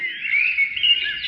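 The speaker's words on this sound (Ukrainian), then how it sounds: "пташки співають" A bright, continuous chirping twitter of small birds, steady and fairly close, with no voices, played as a recorded sound.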